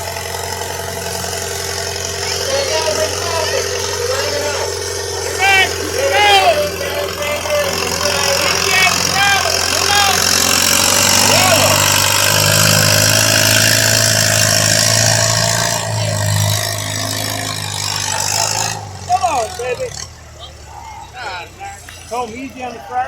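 A pulling tractor at a fairground tractor pull holds a loud, steady engine roar that builds and drones for most of the stretch, then drops away sharply near the end, with a voice speaking over it.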